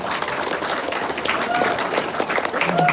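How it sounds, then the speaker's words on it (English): Audience applause at a school music honors ceremony in Guam, a dense, steady wash of many hands clapping throughout, fairly loud with crowd murmur mixed in. "So can we give her a round of applause?"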